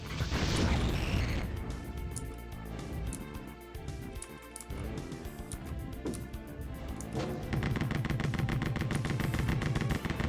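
Fireball projectiles exploding with area-of-effect blasts in Rise of the Triad, layered with rapid gunfire in a dense, continuous barrage of booms and crackles, loud and close throughout with no talking.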